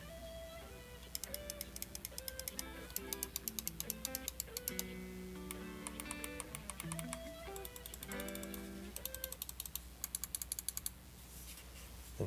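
Buttons on a Roccat Burst Pro lightweight gaming mouse with optical switches click in quick, irregular runs of sharp taps over quiet background music.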